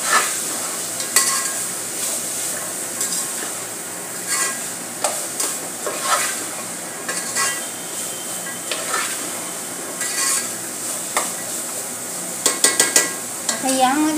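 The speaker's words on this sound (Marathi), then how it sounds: "बघू शकता आपण अशा प्रकारे आपल्याला परतायचे आहे" Spiced masala for masala rice is sautéed in a pan, a close, steady frying hiss with repeated spatula scrapes and metallic clinks against the pan, with no voices.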